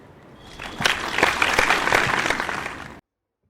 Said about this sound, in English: Please welcome Mr. Kamal Farooqi with a huge round of applause.